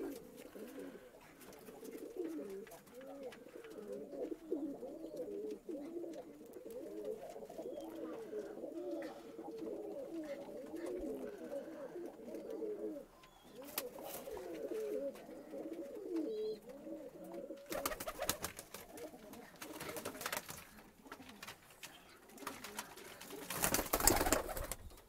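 Pigeons coo almost nonstop inside a loft, a soft throaty murmur that overlaps itself, broken near the end by brief bursts of rustling noise.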